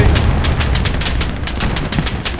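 Rapid gunfire from the World War II shooter Hell Let Loose on the Foy map, sharp repeated shots in a dense, loud burst.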